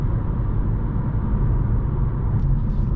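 Cabin of a 2022 Kia Xceed 1.5 MHEV while driving: a steady low road and engine rumble with a smooth, even hiss of tyre noise, continuous and unbroken, with no voices.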